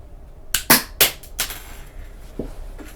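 A homemade weapon built from a mechanical pencil fires several times: three or four sharp snapping cracks in quick succession, then two fainter clicks after a pause. The shots are close and the surroundings are otherwise quiet.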